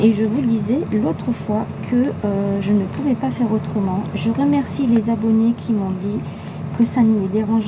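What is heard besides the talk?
None of the usual background noises is heard.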